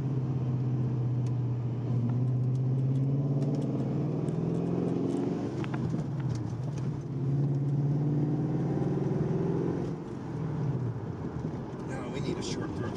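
Old Ford Mustang fitted with 4.10 gears, engine running at light throttle with a steady low rumble throughout, people talking over it inside the car.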